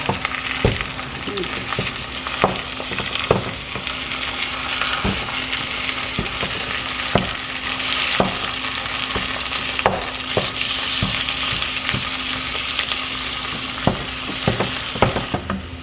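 Minced meat sizzles and fries steadily in a pan, with sharp scraping knocks from a utensil stirring and breaking it up at irregular intervals throughout.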